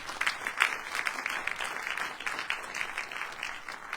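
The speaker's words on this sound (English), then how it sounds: "Let's give them a huge round of applause." Audience applause at a cultural event in the Australian Federal Parliament in Canberra, a dense, steady patter of many hands clapping throughout at moderate level with no voices over it.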